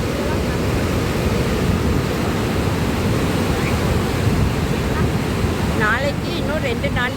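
Water of the Kaveri river rushes loudly and steadily at Mettur Dam, a dense continuous roar close to the microphone, with a few faint whistling or squealing voices toward the end.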